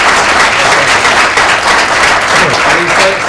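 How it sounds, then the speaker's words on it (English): A live audience claps steadily at a WhaleFest lounge interview, dense sustained applause filling the room from start to finish with no voices over it. "I think we should give him a round of applause."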